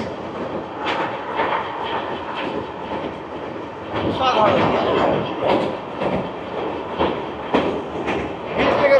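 The Sairang Kolkata Express crosses a tall, long rail bridge with a loud, steady rumble and rhythmic clickety-clack of wheels over the rails, close by, while a passenger speaks briefly.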